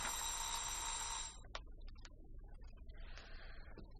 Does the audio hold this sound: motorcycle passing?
no